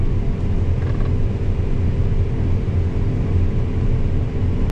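A combine harvester engine in a corn or soybean field settles into a steady, loud, close low rumble that runs without a break.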